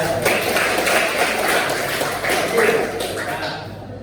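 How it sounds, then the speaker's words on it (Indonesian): A classroom of students clapping together, a dense loud patter of many hands sustained for several seconds with room noise around it. "Oke, tepuk tangan ya."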